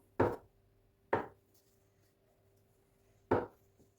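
A knife slices a log of dough into pieces for brynza cheese pastry fingers, giving three sharp, separate chops on a board with short pauses between them, close up in a quiet room.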